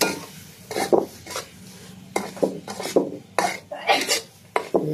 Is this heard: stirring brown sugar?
yes